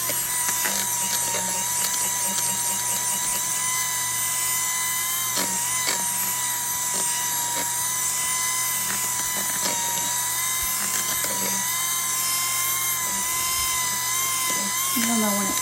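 An electric mixer whirs steadily through pumpkin cheesecake batter, a constant motor hum with rattling beater clicks running for several seconds at close range.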